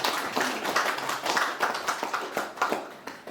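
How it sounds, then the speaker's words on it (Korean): An audience at a Korean essay collection book launch claps in encouragement, a moderate, steady patter of many hands with uneven peaks, close and continuous for a few seconds. "두 분의 문인에게 격려의 박수를 보내주십시오"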